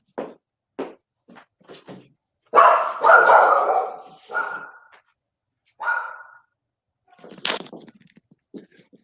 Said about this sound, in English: I have a dog in the room, and I'm going to let her out